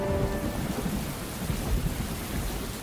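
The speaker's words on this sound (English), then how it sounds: "The whole Quebec Conference takes place under torrential storms." A torrential rainstorm over Quebec pours down with dense hissing rain while low thunder rumbles through it, loud and unbroken across the few seconds.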